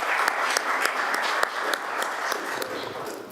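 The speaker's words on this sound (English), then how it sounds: "I think you should give yourself, and everybody gives them a round of applause" A chamber audience at a youth debate in Tobago applauds the participants, giving a steady, dense round of clapping with sharper individual claps standing out throughout.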